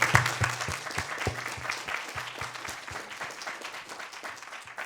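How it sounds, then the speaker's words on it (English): Applause from a seminar audience at a round table on mental health: a modest crowd clapping with distinct individual claps, loud at first and then gradually tapering off. "give them a big hand of applause for running the workshop yesterday"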